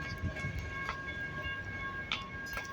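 BNSF intermodal freight train approaching, a continuous low rumble with steady tonal rail noise and a few brief sharp metallic clanks; no voices.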